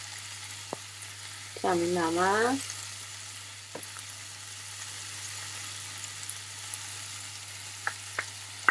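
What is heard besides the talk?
sautéing liver with tomato paste in a pan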